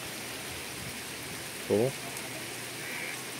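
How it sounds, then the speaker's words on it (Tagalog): Rain falls outside a Suzuki DA17V minivan at a campsite in Tanay, a soft, steady patter hiss that runs faint and even the whole way, with a brief spoken word partway through. "Ewan ko kung narinig yung ulan."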